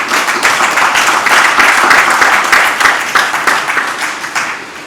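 Dense applause from an audience at the inauguration of the Lagos International Financial Centre Council, loud and continuous, thinning into more distinct individual claps toward the end.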